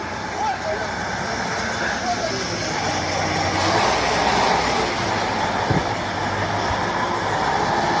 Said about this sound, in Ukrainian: Виїжджає ще транспорт з боку ізолятора зараз.